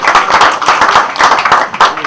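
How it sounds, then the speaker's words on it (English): Audience at a charity dinner at the Yak & Yeti restaurant in Bromley claps loudly in dense, close applause throughout the short burst. "Another round of applause for them."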